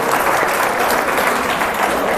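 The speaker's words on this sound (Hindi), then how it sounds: "एक बार भाइयों बहनों इनका भी तालियों से आप अभिनंदन करें, स्वागत करें" An audience gives steady, dense applause to welcome a guest at a public function, many hands clapping together in a sustained wash at moderate loudness.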